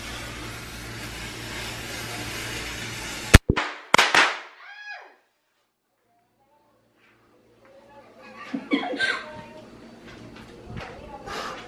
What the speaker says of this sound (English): here are the firecrackers that we're gonna use to prank Brianna, Crystal, and my mom.